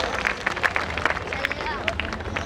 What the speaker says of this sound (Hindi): जोरदार ताली बजा करके मास्टर साहब का स्वागत करिए।